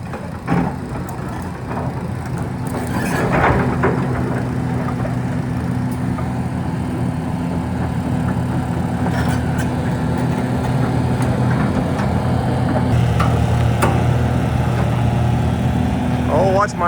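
An old crane engine, left sitting for more than ten years, idles with a steady low rumble as the crane is driven off a trailer. The hum stays even and continuous throughout.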